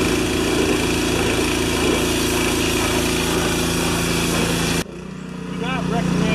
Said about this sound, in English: our second option is a power washer